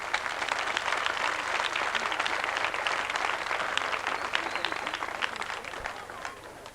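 Audience at a 1985 show jumping event applauding as riders are presented at an evening gala, sustained clapping from a crowd in a large arena, with some talk mixed in.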